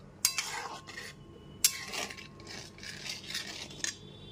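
A spoon stirs and scrapes through a pot of yam and potato curry as salt is mixed in, with two sharp clinks against the metal and then softer rhythmic scraping at low volume.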